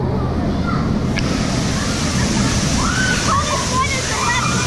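Cold water pours down steadily inside a cave at a water park, a broad rushing splash that goes on without stopping, with voices talking over it.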